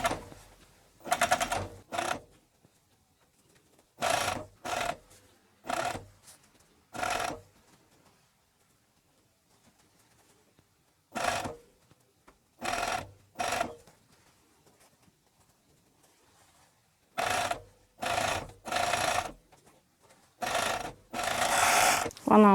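Coverstitch sewing machine topstitching a small dog's t-shirt, running in short separate bursts of a second or so with quiet pauses between, close and clear, with no talking.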